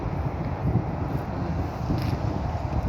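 Wind blows across an open outdoor area near a parking lot in Calgary, Alberta, making a steady low rumble and buffeting against the microphone throughout.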